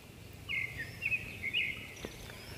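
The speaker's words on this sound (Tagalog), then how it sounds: "huni ng mga ibon." Birds chirp in a quiet natural setting, several short bright calls spread through the middle of the clip against a soft background hush.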